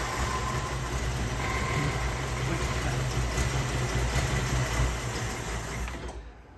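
A revived AMC Eagle car engine with a carburetor idles steadily and close by, a continuous low rumble with a slightly uneven idle, then cuts off near the end.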